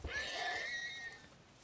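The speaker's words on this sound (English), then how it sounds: "There's a horse here." A horse in Minecraft lets out a single close, clear neigh, a rising then falling whinny that trails off over about a second, with no talking.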